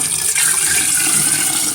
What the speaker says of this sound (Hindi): अब मैं इसमें पानी डालूंगी।